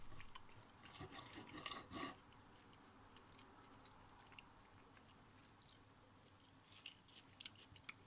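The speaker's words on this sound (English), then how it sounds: "enough so that you are chewing on your food" Steak and chips being chewed up close in quiet surroundings, with soft wet bites and a few clinks of cutlery on a plate, busier at the start and then sparser, no voices.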